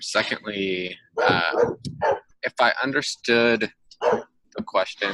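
Dogs bark and yip in the background of an indoor talk, a few short barks underneath continuous speech from a man explaining something.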